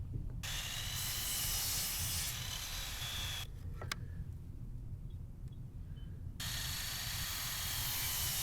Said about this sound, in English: I go to the miter saw and start chopping them up